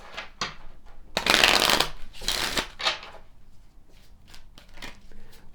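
Kipper cards are shuffled close up, with bursts of riffling and fluttering followed by lighter taps and slides of the deck, loud at first and then quieter.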